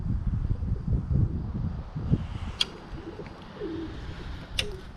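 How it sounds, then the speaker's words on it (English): Birmingham Roller pigeons softly cooing in an outdoor kit box, low murmuring coos under light wind noise, with a couple of brief sharp sounds and no talking. "There's the kit birds up there."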